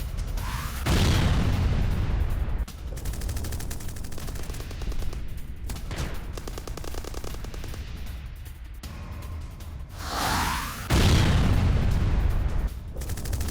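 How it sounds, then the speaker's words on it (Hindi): War footage of a Russian tank being blown up at point-blank range on the front line: heavy booms and bursts of gunfire, with several loud blasts separated by quieter rumbling stretches and no speech. "फ्रंट लाइन में रूसी टैंक को उड़ाया गया, उसका वीडियो दिखाइए जरा।"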